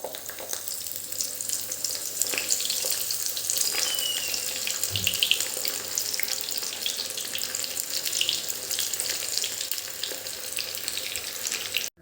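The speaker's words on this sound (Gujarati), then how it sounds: "આ જ રીતે આપણે બીજા બધા મૂઠિયા તળી લેવાના છે" Methi muthiya, fenugreek dumplings, deep-fry in hot oil with a steady, even hiss and bubbling that runs unbroken, with a faint low thump midway and no talking.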